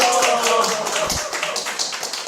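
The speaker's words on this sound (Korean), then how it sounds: "박수 한번 부탁드리겠습니다" Brief audience applause at a seminar gathering, close scattered clapping over a couple of seconds with faint tonal background.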